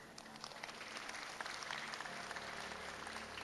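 An audience at a church retreat session claps in a steady, fairly soft wash of applause from a large room, sustained for a few seconds without voices.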